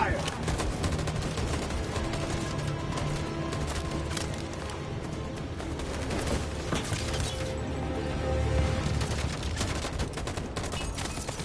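A sustained volley of rapid gunfire in the video game Detroit: Become Human, dense overlapping shots and bursts rattling continuously at close range with a shouted command over the noise.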